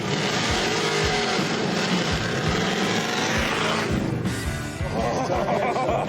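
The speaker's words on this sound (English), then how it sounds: "Every time you pull up to the line to do a drag race, you got to do a burnout first." '67 Dodge Dart roaring through a burnout at the drag strip line, loud engine and screeching tires building for several seconds, then a sharp change as the revs drop and rise again.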